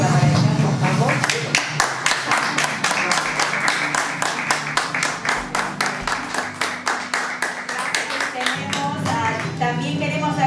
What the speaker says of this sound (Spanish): Darles un aplauso por el gran trabajo